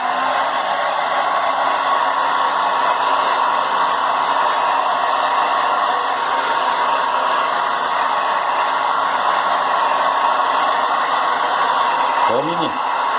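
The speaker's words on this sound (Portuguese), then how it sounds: "Mais o secador." A hair dryer blows continuously and loudly at close range, a steady whooshing hiss with a high whine that holds unchanged throughout, with a brief voice near the end.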